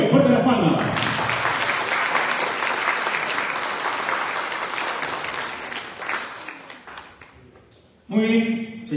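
Loud audience applause fills a university academic-year opening ceremony in Chilca, sustained clapping that gradually fades before a brief voice and renewed clapping cut in near the end.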